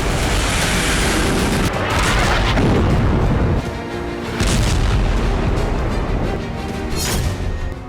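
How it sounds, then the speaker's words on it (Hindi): Heavy explosions from an Israeli airstrike bombing central Beirut, a dense, continuous rumble of loud booms and blasts rolling one into another with no pause. "यह पहली बार है जब इजराइल ने मध्य बेरूत में इतनी भीषण बमबारी की है।"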